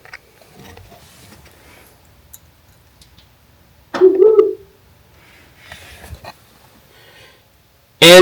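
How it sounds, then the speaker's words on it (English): A Rivian electric vehicle's owl-themed lock chime plays as a short, hooting owl call, loud and close, after a quiet stretch with faint rustling; a second loud burst cuts in at the very end. "Your owl."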